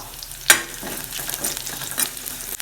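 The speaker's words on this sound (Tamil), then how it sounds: "அதனால் வெங்காயம் போட்டு வதக்குறேன்" Onion and dried red chilli sautéing in a pan for banana flower sambar, a sharp burst of sizzle as the ingredients hit the oil, then quieter frying with stirring scrapes and another spatter near the end.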